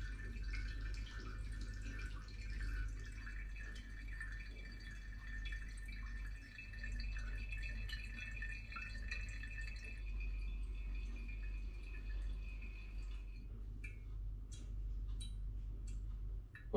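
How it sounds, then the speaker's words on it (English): Apple cider mush from a strong hard cider made with four apple varieties drips through a filter into a hydrometer flask, giving a steady run of soft, close drops over a constant low background hum, with no talking. "here's the mush still dripping into the hydrometer flask"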